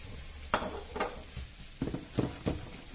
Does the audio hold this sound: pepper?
yes